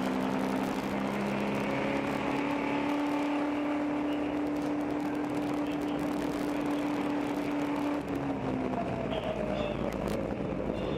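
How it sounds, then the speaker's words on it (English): Endurance race car held in fourth gear without any shifting, its steady engine drone running long and unbroken before tailing off near the end, with broad road and wind noise throughout. "They're just driving that car in fourth gear the best they can, using as much momentum as they can"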